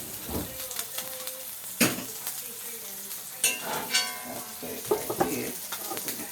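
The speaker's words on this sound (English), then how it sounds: "And then I'm going to baste the top of the salmon." Salmon pan-searing in butter with garlic, thyme and rosemary makes a soft continuous sizzle, with scattered clinks and scrapes of a utensil against the pan as the fish is basted.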